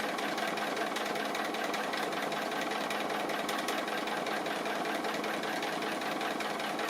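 A sewing machine stitches a tree appliqué in a steady, fast, continuous mechanical whir, close and even throughout with no talking.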